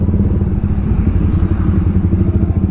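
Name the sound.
Kawasaki Ninja ZX10R superbike engine revving at full power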